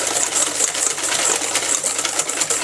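Erythritol being whisked in a bowl for low carb sugar-free ice cream, a steady rapid scraping and clicking that runs throughout, close and fairly loud with no talk.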